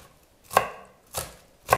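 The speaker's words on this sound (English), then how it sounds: "Then you cut the celery." A knife chops celery on a cutting board in three distinct, evenly spaced strokes, each a crisp thud, close and with no voices.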